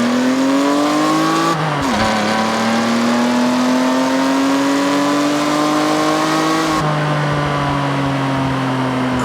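A stock Japanese car's engine in Forza Horizon 6, a steady loud drone held at high revs, dipping sharply with a gear shift, then climbing slowly again before another shift, with no talking.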